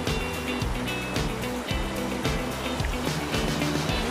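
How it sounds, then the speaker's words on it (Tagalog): Water pouring at Toto Falls, a small natural waterfall, makes a steady, loud, continuous rush that fills the whole stretch with no pauses. "So, welcome to Toto Falls."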